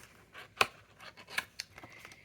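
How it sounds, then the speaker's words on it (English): Small craft scissors snip through paper in a few quiet, crisp cuts, the sharp clicks spaced irregularly over a couple of seconds, close by and without speech. "I'm going to use the little scissors because those other ones, just something ain't right"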